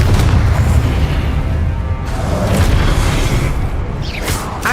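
Confringo blasting spells from the Hogwarts Legacy video game burst in dense, booming explosions, a continuous loud low-end rumble of blasts and crackling impacts with no pause across the stretch.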